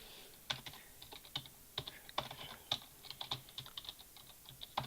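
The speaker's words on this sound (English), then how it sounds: "I cannot type and talk at the same time" Keys clatter on a computer keyboard in quick irregular bursts of crisp taps, close and fairly quiet, with short pauses between runs and no talking.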